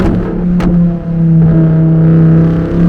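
A Lamborghini Huracan EVO engine while driving, a loud, steady droning hum heard from inside, rising slightly in pitch as the car pulls, with a brief dip and a knock early on.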